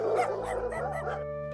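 Dogs bark and yip briefly in an eerie, horror-style sound effect, a few quick close barks fading into a low sustained drone.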